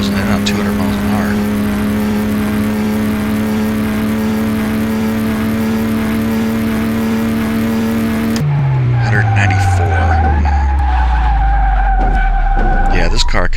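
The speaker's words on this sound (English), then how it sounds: "When it starts to fishtail, I let off the gas." A car in Car Mechanic Simulator 2018 approaches 200 mph and fishtails with a loud, sustained engine drone, then shifts into a harsh skidding screech as the engine note drops steeply.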